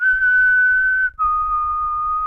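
A clear, close whistled tone holds steady, dips briefly, then continues on a slightly lower pitch, with faint low background noise.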